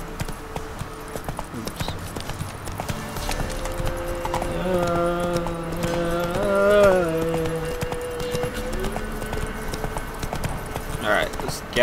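Horse hooves clip-clopping at a gallop in The Witcher 3: Wild Hunt, a steady rhythmic beat through a wooded area, with someone talking over it at moderate level.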